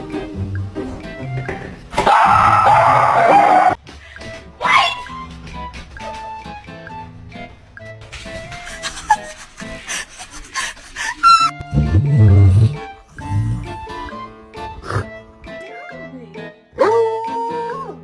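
Dog sounds, with barks, yips and whimpers, mixed into excited human voices, including a loud burst near the start; a dog in what seems to be a driving situation, close by and intermittent over busy talk.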